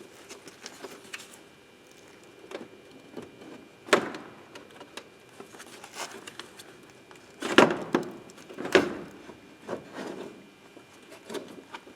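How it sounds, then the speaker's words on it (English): Plastic creaks, rubs and clicks come in short bursts as a Peugeot 307 headlight is eased out of its housing, with a couple of louder scrapes near the middle, close and quiet. "Slowly pull the headlight out of its place."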